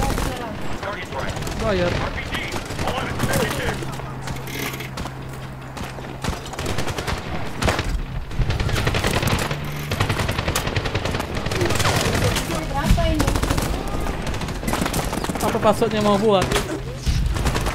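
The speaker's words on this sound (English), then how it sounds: "We're taking mortar fire at our position" Mortar fire and continuous gunfire in the Medal of Honor (2010) PC game, loud heavy booms layered over battle noise throughout, with voices talking over it.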